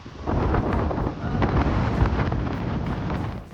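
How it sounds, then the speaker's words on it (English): Outdoor wind in Melbourne rumbles and buffets a microphone in strong, continuous low gusts that rise and fall slightly for several seconds, loud and close, with no one talking. "And it's constantly windy. You will always have wind."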